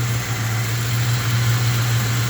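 A 1975 Chevy C10 truck with a 4-bolt-main 350 V8 idles just after a cold start, a steady low rumble with a constant hum, loud and close, no voices.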